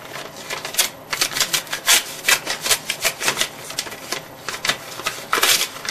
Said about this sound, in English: so let's open it up, right? I wish I had an envelope opener right now.